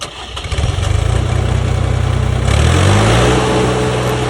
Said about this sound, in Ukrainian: Сьогодні у нас на огляді міні-екскаватор литі 1018, який дійсно вас дивує.